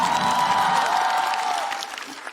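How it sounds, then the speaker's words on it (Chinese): An audience at a stand-up comedy show applauds a comedian, a dense burst of clapping that fades toward the end. "掌声再给嘻哈。"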